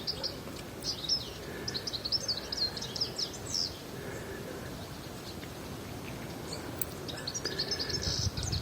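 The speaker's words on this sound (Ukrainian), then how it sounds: "Чижик, чуєте?" Small high-pitched Eurasian siskin calls chirp in scattered bursts over a steady outdoor rumble, moderately close, with no talking.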